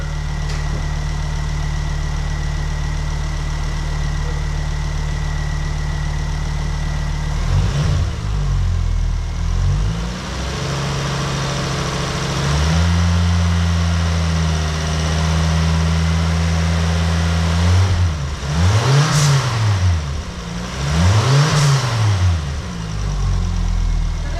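A misfiring car engine idles steadily, then is blipped through several short revs, each followed by the sneezing hiss of a dump valve, loud and close with no talking.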